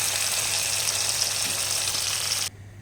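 Hot oil tempering with fried onion sizzles loudly and steadily as it is stirred into cooked dal with raw mango and drumstick, then cuts off abruptly near the end.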